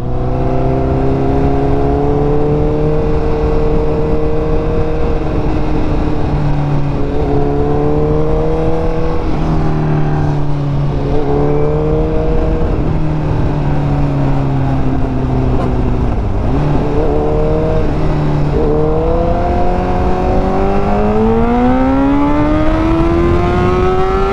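A Honda CBR1000RR superbike engine screams continuously, its pitch climbing and dipping as it accelerates hard, loud and close for the whole stretch.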